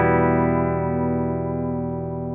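Electric guitar played through a Chase Bliss Warped Vinyl MK2 chorus pedal sustains one rich, loud chord with a slow warbling pitch modulation, fading gently over a couple of seconds.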